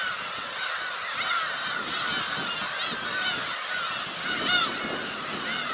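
A dense colony of black-tailed gulls calls on a coastal open area in July, a continuous overlapping chorus of nasal, honking cries from many birds at close to middle distance, with no talking.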